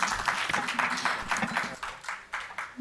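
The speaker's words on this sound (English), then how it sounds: "A huge round of applause," Audience applause at a co-lending finance summit panel session, a patchy round of clapping from a hall crowd that swells and thins over a few seconds, moderately distant.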